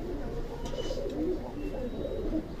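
A pair of red local pigeons coo softly in repeated low, rounded calls, fairly faint and close, with some faint background noise.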